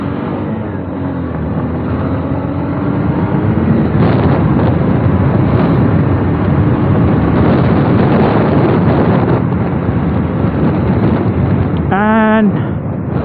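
A Hero Xtreme 160R motorcycle with a 163cc air-cooled engine accelerates hard, its engine drone rising through gears beneath heavy wind buffeting from riding, with a brief rising whine near the end.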